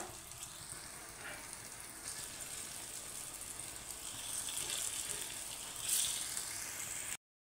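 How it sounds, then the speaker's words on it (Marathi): Alu vadi, rolled colocasia leaf slices, shallow fry in oil in a pan, giving a steady soft sizzle and hiss that swells slightly near the end before cutting off, with no talk. "तर मी इथे शॅलो फ्राय करते, तुम्ही डीप फ्राय सुद्धा करू शकता।"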